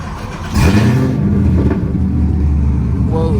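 A 2016 Chevrolet Camaro SS with full bolt-ons fires up with a loud, sudden bark, then rumbles on in a heavy, close, steady idle inside the car.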